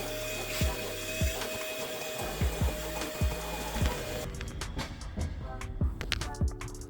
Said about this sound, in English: vacuum all the tighter edges of the seat